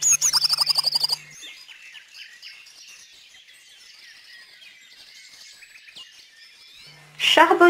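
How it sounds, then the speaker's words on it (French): Blue tits chirp in a garden: a fast burst of bright repeated calls opens, softer twittering and thin trills continue at a distance, and another loud chirping burst ends it. "Les mésanges bleus."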